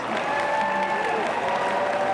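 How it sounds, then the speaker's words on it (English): Audience applause fills a high school event, a dense wash of many hands clapping together at steady, moderate loudness for a couple of seconds, heard from within the crowd. "I think we can give them a louder applause than that."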